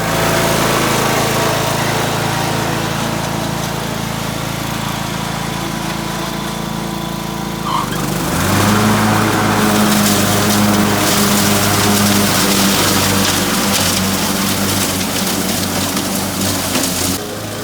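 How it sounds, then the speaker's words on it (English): A lawn mower engine runs steadily for the whole stretch, droning loudly up close and growing a bit rougher and louder about halfway through, with no voices. "Mowing the lawn."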